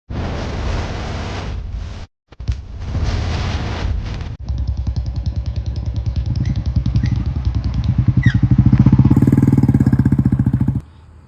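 A Royal Enfield Bullet 350 motorcycle engine idles nearby with a steady, loud thumping pulse, briefly cutting out before resuming and swelling near the end, then stopping.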